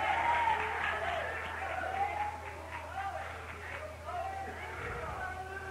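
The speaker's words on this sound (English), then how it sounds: "Somebody that loves Jesus, clap your hands and give God a great big cheer." A church congregation claps and cheers in a dense, continuous wash of applause with shouted voices mixed in, fairly loud and steady, easing slightly toward the end.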